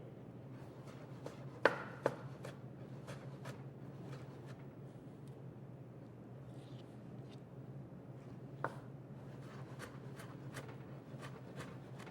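Knife dicing the outer section of a tomato on a cutting board, a steady series of soft, close chopping taps with a few sharper knocks, heard alone without talk.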